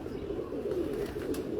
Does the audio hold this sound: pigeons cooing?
yes